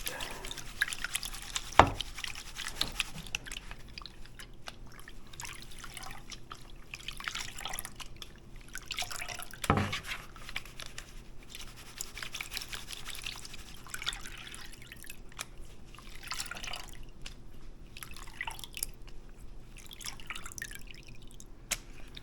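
Water swishes, trickles and drips faintly in a gold pan while black sands are worked at home, a quiet, uneven splashing with a couple of sharper knocks and no voices.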